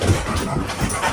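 A dog pants and whimpers close by in a short burst of steady breathy noise, heard alone without talk, at a tiny house cabin building site.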